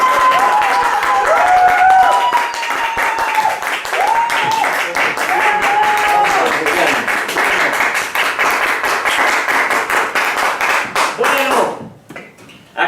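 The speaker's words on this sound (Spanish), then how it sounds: "Vamos a regalarle un fuerte aplauso" A live audience claps for a guest at a cultural talk event, with close, sustained applause that fades into scattered claps before stopping near the end. Voices cheer and talk over it.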